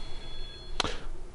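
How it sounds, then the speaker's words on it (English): A software alert in Business Objects goes off when a database query finishes, a single short ring burst, fairly faint over a quiet low room hum, preceded by a thin steady tone. "hopefully you heard the ringing"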